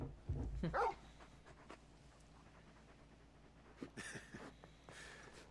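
A large dog in the video game Final Fantasy XVI pants and whimpers softly in short breathy bursts, with quiet rustling between them.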